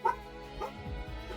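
A dog gives a short yip and a couple of whimpering barks, indoors and fairly faint, quiet and brief rather than sustained.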